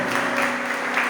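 Congregation applause at a Sunday church service, a steady wash of many hands clapping at moderate volume with slight swells, heard without voices.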